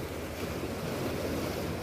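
Steady sea waves wash against the shore at Daepo harbor in Sokcho, Gangwon, a continuous close surf roar with some wind noise on the microphone and no voices.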